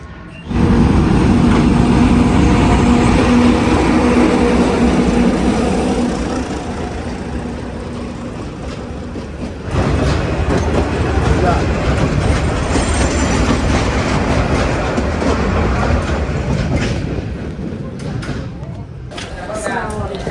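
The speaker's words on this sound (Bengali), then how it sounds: "ট্রেন আসতেছে।" A train passing close by, loud roaring rumble with rhythmic clatter of wheels over rail joints and brief metallic squeals, the noise easing slightly as carriages roll on.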